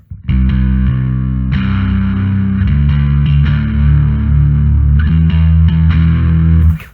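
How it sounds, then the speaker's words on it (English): Bass guitar played through a Darkglass B7K distortion model on a Line 6 Helix LT, with stock pickups on a Brice Defiant bass: loud, gnarly, growling distorted notes ring out steadily for several seconds, alone with no talking. "sounds so gnarly with distortion."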